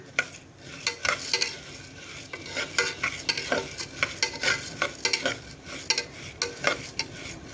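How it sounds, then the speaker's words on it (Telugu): Toor dal roasting in oil inside a pressure cooker on a stove, with a steady low sizzle and frequent scraping, clinking stirs of a utensil against the cooker, close and fairly loud. "ఒక కప్పు కందిపప్పు వేసానండి కొంచెం ఆయిల్ వేసి కొంచెం ద్వారగా వేపుతున్నాను"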